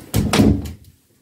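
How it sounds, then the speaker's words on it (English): A solid wooden interior door on a narrowboat swings shut between the shower room and bedroom, giving a close, heavy thunk and latch knock followed by a short fade to quiet. "Closing the door from the shower room to the bedroom, we have a wooden door as opposed to one with a glazed panel."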